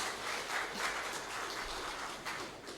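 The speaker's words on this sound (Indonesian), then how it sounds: "Tepuk tangan untuk Pak Samsul." An audience at a rector's inauguration ceremony in Jakarta claps in a steady, moderately loud burst of applause that lasts the whole moment.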